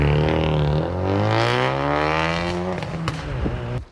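A Nissan 350Z exhaust revving close up, a loud raspy engine note climbing in pitch and then dropping with a crackle as the throttle is released.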